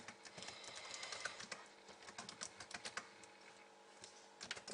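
Rapid typing on a computer keyboard as a website address is entered, with irregular clusters of crisp key clicks heard close up and steady throughout, and no voices.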